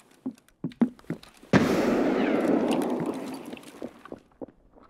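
A grenade blast in a first-person shooter game, a single loud booming burst that rolls off over a couple of seconds, with short clipped sounds and brief voices before it.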